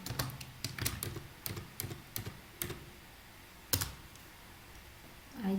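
Computer keyboard keys click close by as a command is typed, in quick uneven bursts with short pauses and a final pair of taps after a gap, over quiet room noise.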